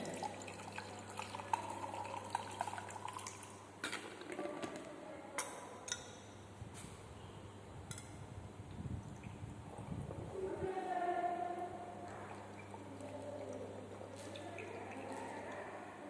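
Water is added in small amounts to a laboratory flask to dilute a brass copper-analysis solution up to the mark, quiet trickles, drips and faint glassware clinks alongside a low hum.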